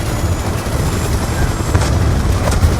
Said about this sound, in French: On a d'autres hélicos russes qui arrivent par le nord